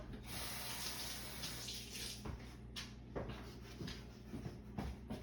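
Water runs from a kitchen tap for brownie batter, a steady close splashing stream into a container with a few soft knocks and clatters along the way, no voices.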